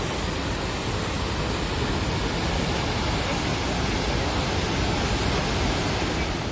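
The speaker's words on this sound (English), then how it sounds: "This waterfall is a mile long." Victoria Falls, a mile-long waterfall, sends out a dense, unbroken roar of rushing water that fills the whole scene at a constant level.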